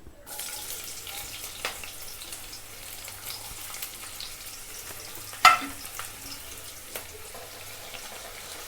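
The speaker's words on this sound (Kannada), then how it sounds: "ಇವಾಗ ಇದಕ್ಕೆ ನಾನು ಇದು ತೊಗೊಂಡಂಥ ಮಸಾಲೆ ಹಾಕ್ತಾಯಿದ್ದೀನಿ ಅದು ಹಾಕಿದ ತಕ್ಷಣವೇ ಉಳ್ಳಾಗಡ್ಡಿ ಹಾಕ್ಕೋಬೇಕು" Masala and onions sizzle in a little oil in a pan for a Khardaa chicken snack, a steady close crackle with a few sharp clinks and stirring knocks, notably one loud tap midway, no voices.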